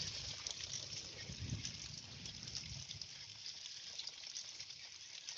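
Water streams steadily through a gold trommel during its first run, a continuous hissing wash with a low rumble under it that holds at an even level throughout.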